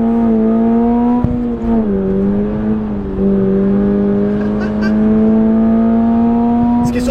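A Toyota GR86 sports car drives on a road. Its engine holds a steady, loud drone with slight pitch dips and rises, and brief tyre or chassis noises suggest it is being pushed toward a slide.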